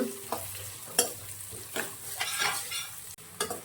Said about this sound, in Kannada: ಕಲರ್ ಚೇಂಜ್ ಆಗಲಿ ಈರುಳ್ಳಿ ಕಲರು ಅಲ್ಲಿವರೆಗೂ ಫ್ರೈ ಮಾಡೋಣ